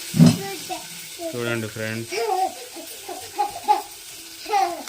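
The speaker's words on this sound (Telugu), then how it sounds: "టమాటా ముక్కలు ఉల్లిపాయలు ఫ్రై అవుతున్నాయి" Tomato pieces and onions fry in a pan for semiya upma, a soft sizzle in the background while a voice speaks and hums over it close by.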